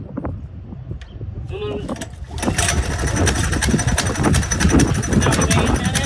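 A small engine is started; after a quiet, clattery lead-in it catches and settles into a steady, loud running drone heard up close, with someone talking over it.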